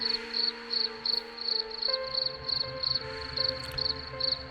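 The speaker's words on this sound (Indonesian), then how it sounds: "Terdengar sekilas suara jangkrik berderik dari kejauhan." Crickets chirp in regular pulsing bursts, a faint high trill repeating steadily over a low background hum, no voices.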